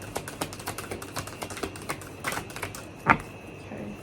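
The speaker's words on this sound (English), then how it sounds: "Okay, final shuffle." Tarot cards being shuffled by hand during a reading, a run of soft rapid riffling clicks and taps with one sharper snap near the end, close and moderately quiet, with no talk over it.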